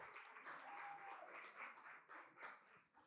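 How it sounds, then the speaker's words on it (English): Applause from a story slam audience: a steady wash of many hands clapping at once, quiet and distant, with no voices. "You can clap."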